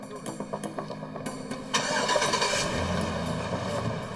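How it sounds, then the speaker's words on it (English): A hotwired getaway pickup truck engine starting: rapid cranking pulses for over a second, then the engine catches and settles into a steady loud idle. "Finally, the pickup roared to life and the men took off."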